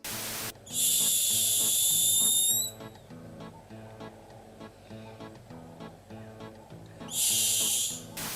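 Two bursts of loud, piercing shrill screeching from a hyrax separated by a long stretch of rhythmic low background music; the harsh animal cries stand out sharply above it.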